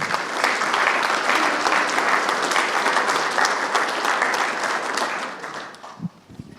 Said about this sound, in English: can I keep the applause going one more time for Professor Craig Stockings